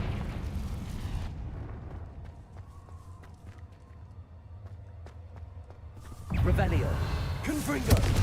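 A Confringo fire spell bursts in the Hogwarts Legacy video game, a sudden loud, crackling explosion that erupts near the end after a stretch of quieter rumbling game ambience.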